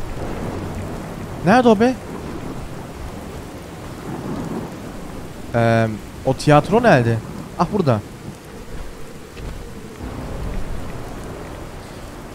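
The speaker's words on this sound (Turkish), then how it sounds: "Umarım fırtına hemen bitmez." Thunderstorm in the video game Fallout 4: steady rain hissing throughout with low thunder rumbles building near the end, while someone talks over it in bursts.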